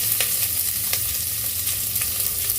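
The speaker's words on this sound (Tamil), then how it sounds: "போட்டு நல்லா வதக்கிடுங்க" Steady sizzling of onions sautéing in a pan, with occasional stirring scrapes, continuous and close with no talking.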